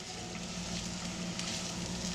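Ground beef, browned and seasoned, sizzles steadily in a frying pan with onion, a constant close crackle of frying with no talking.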